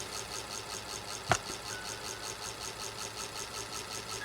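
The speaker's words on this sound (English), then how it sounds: "the wave is pretty wide because the motor is going slow" Slow-running electric motor in a test setup, a steady low pulsing hum with a regular rhythmic beat, and a single sharp click partway through.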